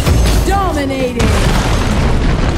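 A loud booming blast as a tower is destroyed in Arena of Valor, with heavy low-end rumble throughout, while a voice is heard over the explosion.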